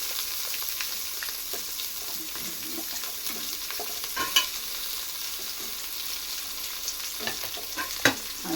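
Chopped onions sizzle gently in a pan while being stirred for a prawn biryani, a soft steady frying hiss dotted with occasional sharper scrapes and clinks of the spoon, heard close with no voices.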